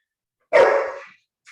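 One sharp, loud dog bark, close by and alone, trailing off quickly, followed by a faint brief sound at the very end.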